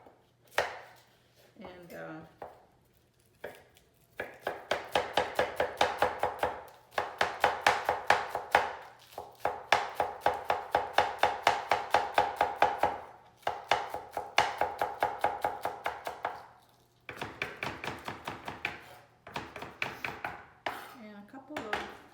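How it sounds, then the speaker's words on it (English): Onions being chopped with a knife on a cutting board, steady fast rhythmic knocks in long runs with short pauses, close and clear, a voice briefly heard at the start. "I'm gonna go ahead and chop up my onions, like 3 sprigs of onions."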